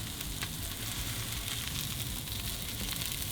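Pork chops fry in hot grease, giving a steady, loud sizzle with scattered sharp pops and splatters and no talking.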